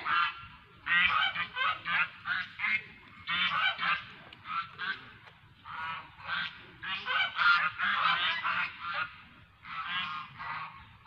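Ducks honking on a farm, a rapid string of loud, nasal calls in bursts with short gaps, close by, no talking.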